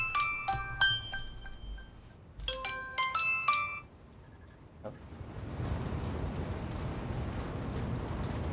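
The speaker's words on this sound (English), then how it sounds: "My phone is ringing." A mobile phone ringtone rings twice as bright, melodic chiming tones, and then a low rumbling game noise takes over once the ringing stops.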